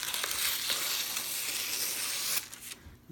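Scissors or a blade cutting through parchment paper in a kitchen: a steady, faint crisp hissing rasp for about two seconds, then a few quieter rustles and a short break.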